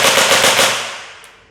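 A gel blaster fires one short full-auto burst at about 27 rounds a second from a 29–30 cm barrel, a rapid loud rattle that cuts off and fades into a decaying tail.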